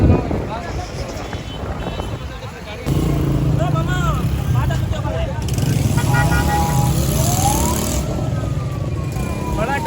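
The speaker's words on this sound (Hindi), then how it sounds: "बड़ा ट्रैफिक है भाई।" Heavy road traffic with motorcycles and horns on a blocked route: engines rumble and whine past close by, with intermittent horn toots and wind buffeting the microphone.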